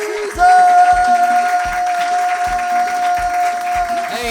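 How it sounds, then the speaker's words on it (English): A live audience at a coffee house open-mic show breaks into loud, sustained applause after the host is introduced, with clapping throughout and a steady tone running beneath the crowd noise. "Give it up for Jesus"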